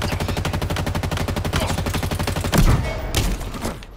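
Rapid bursts of automatic gunfire rattle continuously through a video game battle, dense and loud, with a heavier thudding blast near the end.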